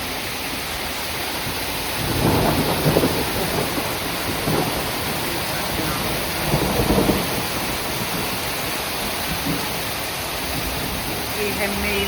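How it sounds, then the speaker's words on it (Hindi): A heavy May hailstorm in Shimla pounds down in a dense, loud roar of falling ice and rain, broken by several deep thunder rumbles, with a voice faintly under the storm. "ज़बरदस्त ओले लगे हैं, मोटे मोटे, और कितनी ऐसी गिर रही है ना, बहुत ज़बरदस्त तूफान साथ में।"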